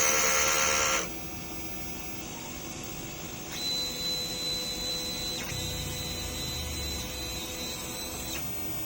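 A DTF printer runs a head-cleaning cycle, close mechanical whirring and a steady pump hum with a thin high whine, shifting in pitch as the cycle moves through stages.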